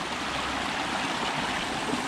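A creek runs high and fast, giving a constant, soft broadband rush of water with no voices, steady and fairly faint throughout.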